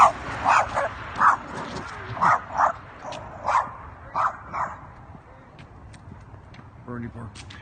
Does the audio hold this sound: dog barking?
yes